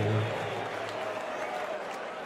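A 7,500-strong darts crowd applauds at a Premier League Darts match, a broad wash of clapping that swells briefly at the start and then holds steady.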